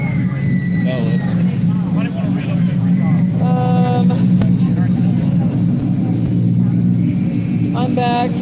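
A white truck's engine runs steadily at a Saturday-night rod run in Pigeon Forge, a continuous low rumble mixed with other passing vehicles and crowd noise, with voices audible in the background.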